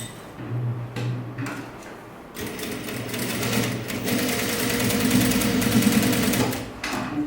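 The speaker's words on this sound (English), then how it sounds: "sew on top of the seam here also. So basically you sew twice." A close sewing machine runs a seam on a sleeveless top, humming steadily through most of the clip after a brief pause and a clack near the start.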